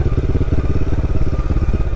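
A Royal Enfield Himalayan 450 motorcycle rides along a mountain road with the rider standing, its engine a loud, close, steady thumping drone with a fast pulsing beat and no talk over it.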